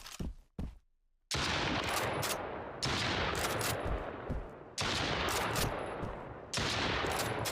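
Shotgun and other weapon gunfire in a video game comes as loud, close blasts, a few quick pops, then four heavy booms spaced about two seconds apart, each trailing off into a long echo.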